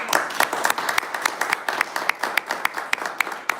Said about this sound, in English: round of applause for our second class